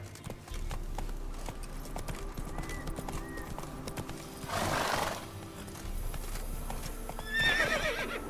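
A horse gallops in The Witcher 3 on PS5, hooves clip-clopping in a steady rapid rhythm with a loud whinny near the end, close and prominent over faint game ambience.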